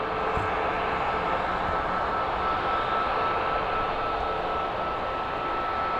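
EasyJet airliner at Birmingham Airport on an early morning, a steady broadband engine roar holding level and fairly loud throughout with no talk.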